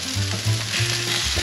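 A weakfish fillet sizzles and crackles in a hot pan, a close, steady frying hiss with soft low bubbling pulses and no talking.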